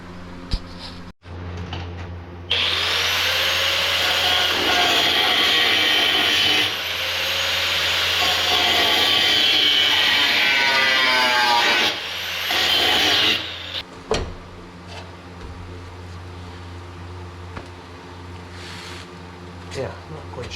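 A power cutting tool grinds and whines loudly through metal while trimming a GM truck's rocker panel during replacement, running for about ten seconds before stopping, with a voice heard in the clip.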